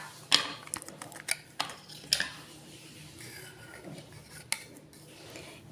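A small spoon clinks against a metal bowl or container while half a spoonful of baking powder goes in for sweet semolina idli, giving a few sharp, close taps in a quiet kitchen.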